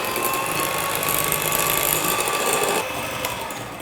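An electric mixer whirs steadily as it whisks butter and sugar for vanilla cupcakes, a close, even motor hum with a high whine that drops slightly near the end, with no talk.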